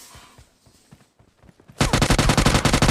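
Gunfire in a battle royale game: after a quiet stretch of faint footsteps and small sounds, loud rapid automatic bursts erupt and keep going to the end.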